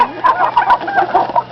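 Chickens clucking at a farm, a steady run of close, overlapping clucks and short calls filling the whole moment with no talk.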